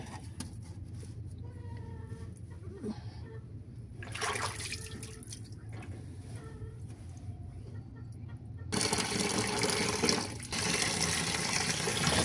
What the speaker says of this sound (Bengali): এই আলুটা ধুয়ে নেই, মাটির থেকে তুলে আনা হয়েছে